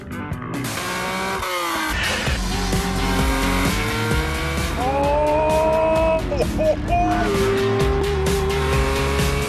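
A loud, continuous Lancia Stratos rally car engine roars and revs close by, with rising harmonic whine as it accelerates, plus brief tyre squeal and gear changes.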